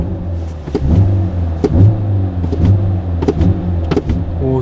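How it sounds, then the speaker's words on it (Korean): A Hyundai DN8 Sonata LPi (LPG) car engine revs in repeated short surges as the accelerator is pressed, with clicking and knocking sounds mixed into the steady close rumble. "제 악셀 소리 들리시죠?"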